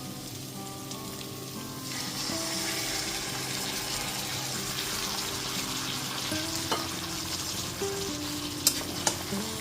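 Boiled moong dal stirred into a fish head masala frying in a pot, giving a continuous sizzle with soft stirring, a steady tonal hum in the background and a few sharp clinks toward the end.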